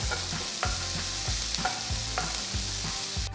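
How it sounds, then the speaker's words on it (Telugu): Chopped onion, ginger and green chilies fry in a hot pan with a steady sizzle, while a spoon scrapes and stirs in regular strokes, close and continuous, with no voices. "ఇందులో చిన్నగా తరిగిన ఒక పెద్ద ఉల్లిపాయని కూడా వేసి వేయించాలి"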